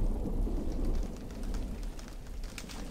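Rain patters steadily in a suburban scene in a Tomb Raider level, a dense low wash with scattered drop ticks and a faint rumble, heard alone at low level.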